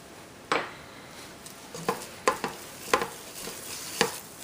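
A coconut mixture with a little cayenne pepper being stirred in a pan, with several distinct, sharp scraping taps of a spoon spaced out over a quiet background.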